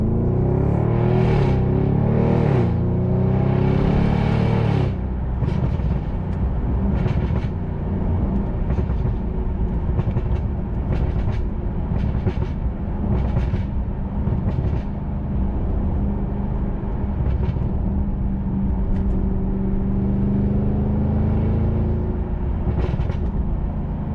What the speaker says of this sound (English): every time I'm driving this car, you know, it really just gives me huge smiles, only because of that V8 sound